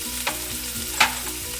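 Spoon stirring peas, carrots and other chopped vegetables in a frying pan for dalia khichdi, a steady close sizzle with two brief scraping strokes, and no one speaking.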